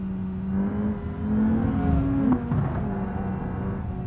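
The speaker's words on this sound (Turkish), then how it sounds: "Egzoz patlatıyor ama." A Hyundai i20 in BeamNG.drive runs a steady, close engine drone with rising and falling revs throughout, and a brief rough burst near the middle that could be an exhaust pop.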